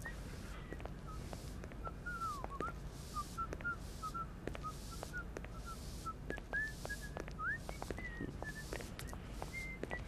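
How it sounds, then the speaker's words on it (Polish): Melodic whistling from a character in the adventure game Syberia, a thin wavering tune of short repeated notes running steadily over a busy low ambient background with faint clicks. "Gwizdanie w miejscu publicznym jest niekulturalne."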